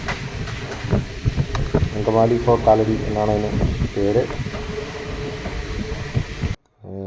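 Aboard the Kottayam–Nilambur Express between stations, the carriage rumbles and clatters steadily in the background while someone talks over it; the sound cuts out abruptly near the end.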